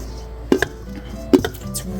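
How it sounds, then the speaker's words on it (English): Chopped zucchini relish mix dumped into a colander in a kitchen, two short soft thuds and rattles about a second apart, fairly quiet, with no talking. "we're just gonna dump it in this colander"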